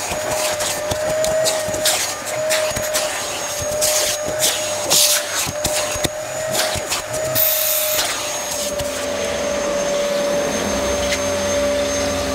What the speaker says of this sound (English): let's switch the hoover on